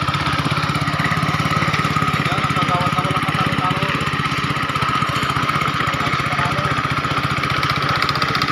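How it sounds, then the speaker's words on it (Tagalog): A steady mechanical drone comes from an engine-powered concrete polisher working a freshly poured concrete slab, running continuously nearby with voices talking over it. "Malapit ang pambuli ni Gagawat oh. Makina eh"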